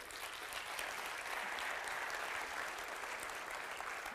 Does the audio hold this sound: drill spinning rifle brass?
no